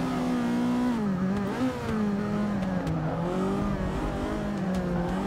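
A car engine in Forza Motorsport 6 revving hard toward the limiter, a loud, sustained engine whine rising and dipping in pitch across a few seconds, with no speech.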